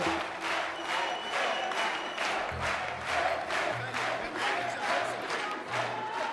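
A studio audience claps and cheers steadily throughout, a dense wash of many hands with a crowd roar, after a performance.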